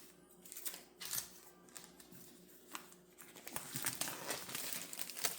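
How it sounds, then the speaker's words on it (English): Cellophane wrap crinkles and tears as it is pulled off a DJI Avata 360 box, a close, soft series of irregular crackles that grows busier toward the end. "Let's go ahead and remove the cellophane."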